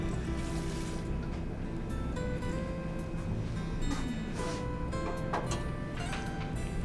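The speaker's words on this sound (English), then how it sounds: "I'm going to add a little bit of cold water in there" Cold water trickles and splashes into a bowl of cream soup base, a close, steady pouring and filling sound with small drips against a low background hum.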